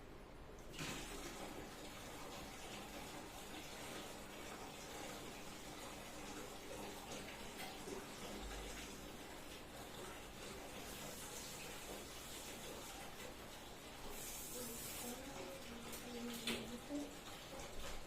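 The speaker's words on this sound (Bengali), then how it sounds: "এখন আমি মুখ ধোবো" Tap water runs steadily into a bathroom sink while someone washes their face, a faint continuous splashing hiss with occasional brief rises and soft clatters near the end.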